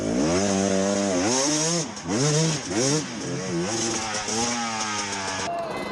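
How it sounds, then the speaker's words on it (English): An enduro dirt bike climbs at the Red Bull Hard Scramble 2016, its engine revving hard and rising and falling as the throttle is worked on and off, loud and close throughout, with brief dips between pulls. "let's listen to Taddy, how much he has to work the throttle and the gas"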